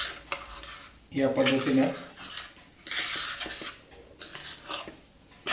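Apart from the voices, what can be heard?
semolina being stirred and roasted in ghee in a pan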